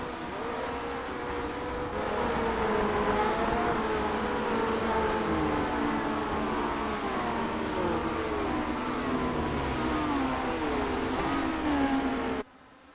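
Race cars in a retro sim racing series accelerate together on a restart, engine notes sweeping upward in overlapping, rising whines through several gear changes before cutting off abruptly at the end.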